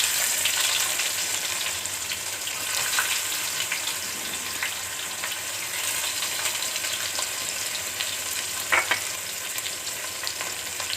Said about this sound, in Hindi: मिक्स करेंगे, प्याज को ब्राउन करेंगे।